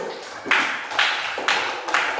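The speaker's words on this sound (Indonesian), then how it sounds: "Tepuk tangan untuk kelompok 1" Classroom applause for a student discussion group, several bursts of clapping rising and falling in waves, moderately loud and close, with no speech over it.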